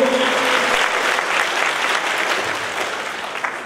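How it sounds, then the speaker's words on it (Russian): Audience applause at a stage concert, a dense burst of clapping from a crowd in a hall, loud at first then slowly fading over a few seconds. "Ваши аплодисменты."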